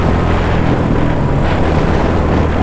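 Royal Enfield Bullet 350 (BS4 Classic 350) motorcycle with a modified silencer exhaust, a loud, steady, deep engine drone close by with no pauses, heard alone.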